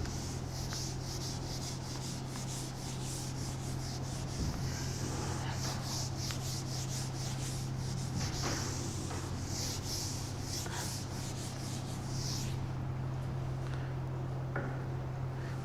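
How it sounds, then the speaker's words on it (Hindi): A board is erased by hand during a maths class, giving a run of soft, scratchy rubbing strokes in an irregular back-and-forth rhythm, close and fairly quiet, with no voices. "अब इसको मैं रब कर रहा हूं"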